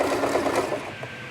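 A sewing machine stitches close up with a fast, continuous whirring buzz that fades slightly toward the end, alone with no voices.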